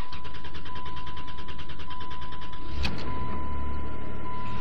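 An old SUV with 129,000 miles that hasn't run in a while cranks and catches, a fast chugging starter whir giving way to a rougher engine note, close and loud.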